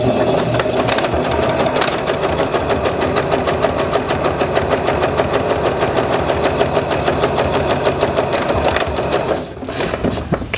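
Sewing machine stitching quilt fabric, a fast, steady mechanical chatter of the needle running continuously at close range, briefly slowing near the end.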